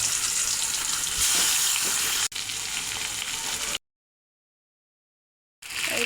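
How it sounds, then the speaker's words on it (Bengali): Pangas fish pieces hit hot mustard oil in a wok and crackle loudly with a dense, close sizzle. It breaks off into a few seconds of silence, then the frying resumes. "কড়াইতে সর্ষের তেল দিয়ে দিলাম, তেলটা গরম হয়ে গেছে, এখন মাছ দিয়ে দেব।"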